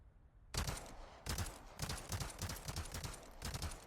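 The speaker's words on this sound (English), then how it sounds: "Let me see if my rifle can hit it." Rifle shots fired in the Resident Evil 4 Remake video game, a series of five or six loud, sharp cracks spaced roughly half a second apart, each followed by a brief ringing tail, with no talking.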